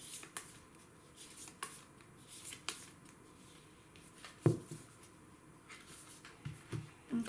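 Oracle cards from a deck are picked through by hand, producing faint, irregular papery flicks and soft taps over a quiet room hiss, with one sharper card snap midway.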